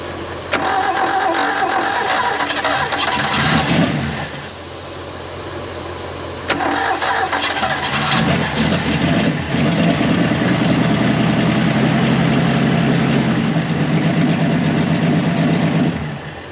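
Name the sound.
Valiant Pacer slant 6 engine starting and idling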